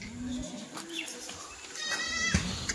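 Kathewadi goats bleat faintly in a few short calls over a busy outdoor background, with distant ambient noise throughout.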